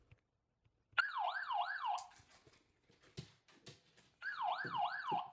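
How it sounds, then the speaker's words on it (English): Indoor Luna 2K security camera alarm siren wailing in two loud, rising-and-falling bursts close by, with a short gap of clattering noise between them and no talking. "And then the alarm, this is what it looks like."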